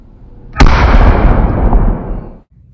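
A micro aerial shell firework made from a plastic drinking straw goes off in one sharp, loud burst, then a roaring, crackling rumble lasts about two seconds before cutting off.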